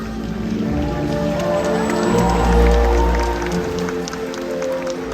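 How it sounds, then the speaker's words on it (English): An audience at SeaWorld Orlando's Orca Encounter stadium show applauds in a steady, broad wash that swells toward the middle and then eases off, with tonal music playing underneath. "let's give her a round of applause"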